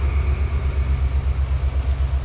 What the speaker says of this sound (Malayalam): കൊല്ലം വണ്ടി പോയി കേട്ടാ